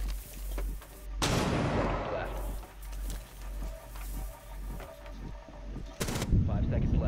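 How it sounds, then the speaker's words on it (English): Stun grenade in Rainbow Six Siege on the Club House map, a sharp loud bang followed by a decaying roar, with scattered gunfire and a second burst later, voices talking throughout. "Throwing a stun."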